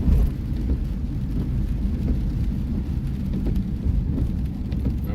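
Steady rain falls outdoors during a live stream, a dense continuous wash of patter with low rumbling underneath, fairly loud and unbroken, no voices.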